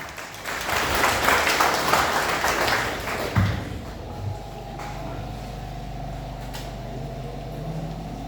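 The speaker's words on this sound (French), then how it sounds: "Sous vos applaudissements, s'il vous plaît." Audience applause at a graduation ceremony rises as a dense, steady clatter of many hands for about three seconds, then fades into a quieter room hum with a few scattered thumps.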